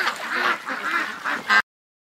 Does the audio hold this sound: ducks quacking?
yes